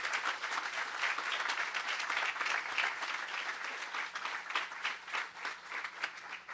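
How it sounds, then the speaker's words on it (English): Audience at a City of Torrance transit center groundbreaking ceremony claps in sustained, moderately distant applause that swells and continues steadily with many overlapping hands. "Let's give Mary a round of applause."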